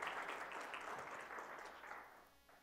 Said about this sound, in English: Give her a round of applause there.